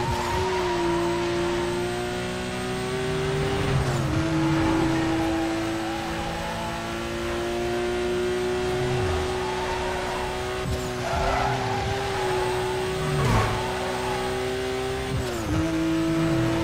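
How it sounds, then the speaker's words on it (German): Need for Speed race cars roar continuously with engine revving and shifting gears, mixed with repeated tire squeals and skids and scattered crunching impacts as cars collide, loud and close for the whole stretch. "Ich fahre einfach gegen jedes Auto"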